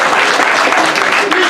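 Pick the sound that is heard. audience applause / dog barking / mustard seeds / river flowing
audience applause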